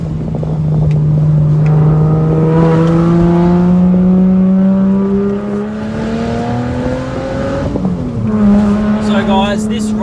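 Subaru Liberty H6 sedan with a 3-litre six, exhaust droning loudly while it climbs through the revs on a tight road, then a quick lift-off and a fresh pull; a voice talks over the engine.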